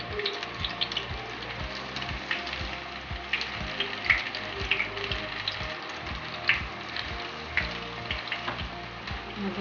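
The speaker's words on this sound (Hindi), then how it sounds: "इसी तरह सारे पकौड़े डाल दें हमने एक एक करके।" Garlic chicken pakoras fry steadily in hot oil with a continuous, close sizzle and bubbling crackle, sounding alone with no voices over it.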